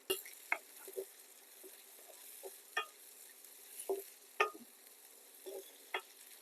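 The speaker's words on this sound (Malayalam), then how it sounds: "നമ്മളിതിങ്ങനെ സ്റ്റർ ചെയ്തുകൊണ്ടിരിക്കണം." Crab pepper masala stirred in a pan, with a quiet sizzle under a series of distinct scraping and clinking strokes of the spoon against the pan, irregular and close.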